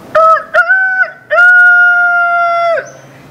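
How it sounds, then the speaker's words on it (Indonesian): A rooster crows in the morning, loud and close. Two short calls come first, then one long, drawn-out crow that tapers off. "ya, suara ayam"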